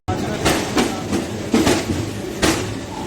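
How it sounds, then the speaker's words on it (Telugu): A passenger train, No. 20967 from Secunderabad Junction bound for Ahmedabad, pulls out of the station with a loud, close rumble broken by rhythmic clattering bursts about once a second. "3:10కి బయలుదేరాల్సిన ట్రైన్ 5 మినిట్స్ డిలేగా"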